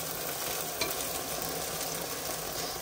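Garlic, onion and salt fry in a pan with a soft, even sizzle that holds steady throughout, fairly quiet and close, with one faint clink and no talking.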